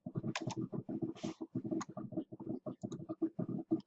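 A password being typed on a computer keyboard comes through as a quick, uneven run of close key clicks and taps, one after another with no pause.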